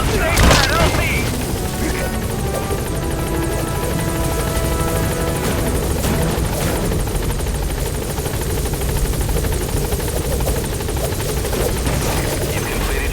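A military helicopter in Metal Gear Solid V lands and lifts off, the loud, steady rotor chop and turbine roar filling the scene throughout.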